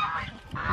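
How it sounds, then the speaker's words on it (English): Young geese honk close by, a couple of quick nasal calls in a brief burst. "These are both baby geese that we hatched here."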